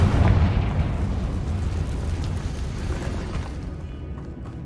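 A Confringo spell explodes in a cave in the video game Hogwarts Legacy, a loud rumbling blast that decays slowly into a low roar.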